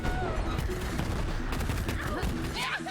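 Dense gunfire and grenade blasts from the video game Borderlands 3, a loud continuous barrage of shots with rapid bursts, a voice talking over the action.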